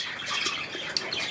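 A green rooster squawks loudly and harshly in a short burst of raspy, repeated calls, close by with no talking.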